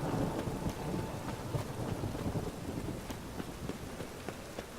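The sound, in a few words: rain and thunder in the video game The Witcher 3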